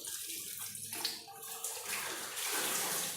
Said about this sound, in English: Look the amount of water that goes inside or went inside my room from the rain.